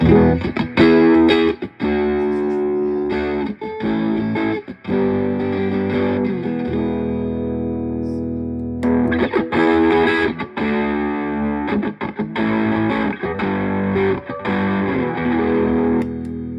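An overdriven electric guitar plays crunchy chords and riffs, close and loud, with short pauses between phrases and a sustained note in the middle; no talking.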